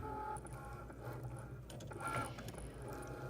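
A Cricut cutting machine runs with cardstock loaded on its mat, giving a steady mechanical whir with ratcheting, gear-like clicks throughout at moderate, close level, with no talking.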